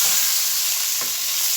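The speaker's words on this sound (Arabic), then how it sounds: "انا عايزه انزل البصل واللحمه واخده لها ايه، صدمه كويسه علشان البصل ياخد من طعم اللحمه" Onions and meat sear in a pot with a steady, close sizzle and frying hiss, and a brief stirring scrape partway through; no one speaks.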